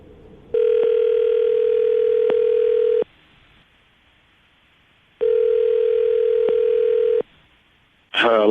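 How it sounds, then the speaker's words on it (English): A telephone dial tone sounds loud and steady in two long bursts of about two and a half and two seconds, separated by near silence, as a call is placed from a radio studio; a brief voice cuts in at the end. "I'm going to call him right now, see if we can get him to answer his phone"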